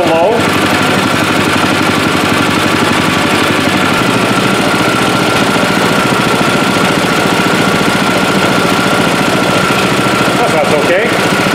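A snow blower engine idles steadily at a fairly low idle, running lean with no surging, a loud continuous mechanical drone that holds throughout.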